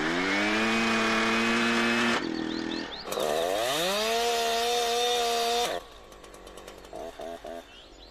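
A chainsaw runs loud and close, its engine holding a high rev before dipping and surging up again, then cutting out abruptly and leaving a quieter rattling idle with faint clatter.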